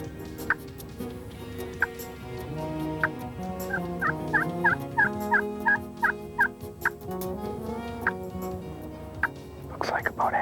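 Young wild turkeys, jakes, gobble in a rapid run of repeated calls while several birds approach a hunting setup late in the day, set over background noise and a faint whisper-like voice.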